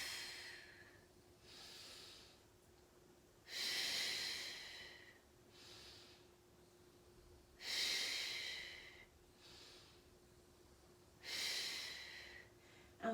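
Deep, audible breaths in and out during an abdominal exercise, with three strong, hissing exhales in a slow, even rhythm, close and alone against a faint background hum.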